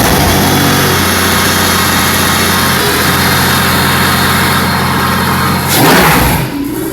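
A Mercedes-Benz AMG CLK GTR roadster's exposed V12 idles after a cold start, a loud, close, steady rumbling hum with a low pulsing drone that holds evenly, then briefly swells with a rush of noise before settling.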